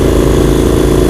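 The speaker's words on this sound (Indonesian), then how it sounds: "Hari ini gue pakai Triumph Scrambler dengan knalpot customnya yang belum di mapping" A Triumph Scrambler motorcycle with a custom, unmapped exhaust runs loud and close, giving a steady, throbbing engine rumble with no voices over it.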